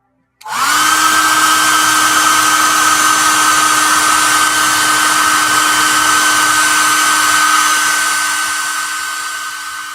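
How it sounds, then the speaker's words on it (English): A hair dryer switches on and blows with a steady, loud whir and a high whine, running continuously before easing slightly near the end. "I'm going to hit that with the dryer."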